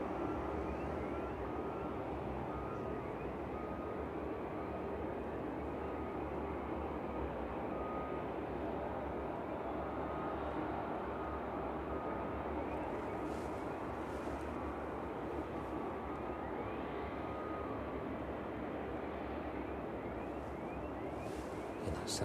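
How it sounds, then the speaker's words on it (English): A Boeing 767 on approach to the runway at East Midlands Airport gives off a steady, distant engine rumble and roar that holds at an even level, faint against outdoor background noise. "In that 767 just coming into view as it makes its way down towards the runway threshold"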